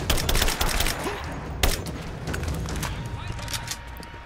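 Assault rifle fire in the video game Rise of the Tomb Raider, a dense run of sharp cracking shots in quick bursts over a noisy combat soundscape, with someone talking over it.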